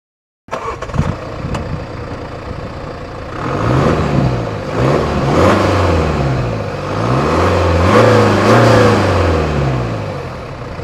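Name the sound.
car driving in rush hour traffic around Munich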